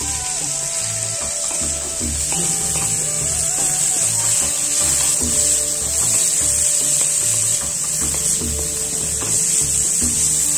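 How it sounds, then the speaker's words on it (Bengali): Cashews and raisins frying in hot ghee, a steady close sizzle with scraping stirring sounds against the pan, continuous and even in loudness. "ঘিটা গরম হয়ে গেছে, কাজু কিশমিশটা আমি ভেজে একসাথে তুলে নেব।"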